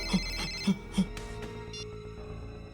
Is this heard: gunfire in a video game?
no